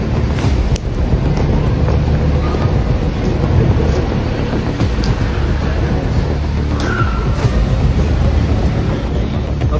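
Strong wind buffeting outdoors near a church, a loud, continuous roaring rush with heavy low-end microphone buffeting throughout.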